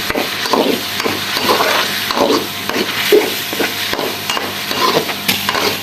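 Spices such as crushed chili, salt and turmeric are stirred in a pan for kofta, a steady scraping of spoon against metal repeating in rhythmic strokes over a soft sizzle, close and fairly loud, with no talking.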